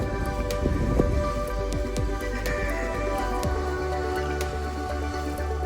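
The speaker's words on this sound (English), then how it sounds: "Here, a waterfall and pond was recently installed" Water splashes and trickles steadily from a newly installed garden waterfall into a backyard pond, a continuous close patter with scattered drips and no voices.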